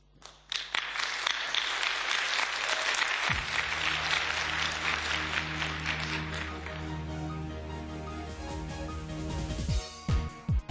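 Audience at a Euroscola youth session in the European Parliament applauds two presenters from Greece, a dense burst of clapping that fills the room and gradually thins out toward the end.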